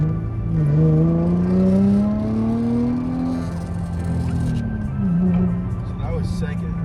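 Nissan G35 accelerating in second gear, its engine note climbing steadily in a single loud pull before easing off, heard from inside the car with someone talking over it.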